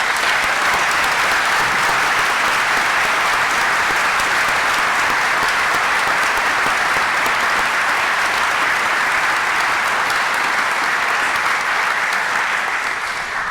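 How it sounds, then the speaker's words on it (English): Sustained applause from a large audience at a university summer graduation ceremony in Reading, a steady dense wash of clapping filling the hall throughout without pause. "I think that deserves another round of applause."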